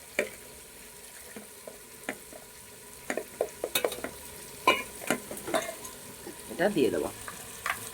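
Mutton kosha cooking in a pan with a water-mixed paste of chili, turmeric, Kashmiri chili powder and kasuri methi, giving intermittent stirring scrapes and sizzling that grow busier and louder toward the end, with a brief spoken phrase.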